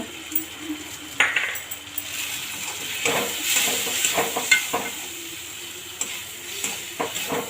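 Spices and tomato frying in a pan for dal fry: a steady quiet sizzle with stirring scrapes and occasional light clinks of a utensil against the pan, close and continuous.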